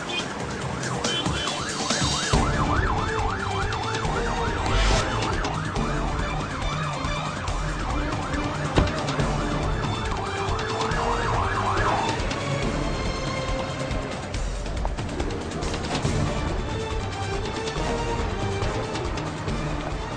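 A police car siren wails in rising and falling cycles for about twelve seconds amid traffic noise and a background music score, then cuts off as the scene continues.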